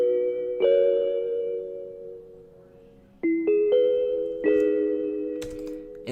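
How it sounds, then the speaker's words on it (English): Street bell sample in a pop cloud rap beat: clean struck bell tones ring out in a short melodic sequence, each note sustaining and slowly decaying, with a few higher chimes near the end and no voices. "A street bell"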